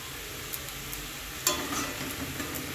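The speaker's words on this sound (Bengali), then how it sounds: "ভালো করে নেড়ে চেড়ে ভেজে নেব।" Kalmi (water spinach) greens fry in a pan with a soft, steady sizzle, and a spatula scrapes and stirs them in occasional light clicks, with one sharper scrape midway.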